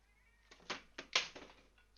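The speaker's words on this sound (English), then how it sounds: "My cat is being kind of annoying" A house cat gives a few short, faint meows in quick succession, close but quiet, with no other sound around them.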